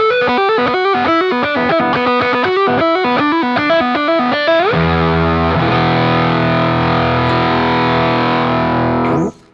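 Electric guitar on its single-coil pickup driven through a fuzz pedal: a run of choppy distorted chord stabs, then one big sustained fuzzy chord that rings loudly and is cut off at the end.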